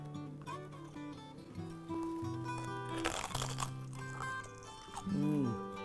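Crunchy Mexican buñuelos, fried dough fritters with cinnamon, being bitten and chewed, with close crisp crunches under tonal music and a louder burst of crunching near the end.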